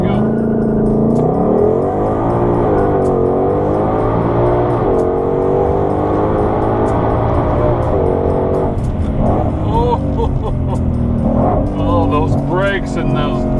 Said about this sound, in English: Brakes and those downshifts, love them.